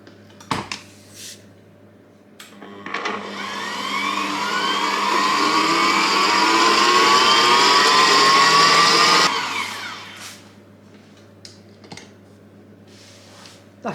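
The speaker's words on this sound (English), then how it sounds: "And give it one more whisk." An electric whisk whirs through ginger cake batter, starting up, holding a loud, steady, rising motor whine for about six seconds, then cutting off, with a few light knocks before and after.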